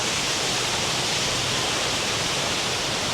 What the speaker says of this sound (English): you can hear the sound of cascading water everywhere around you as you're walking around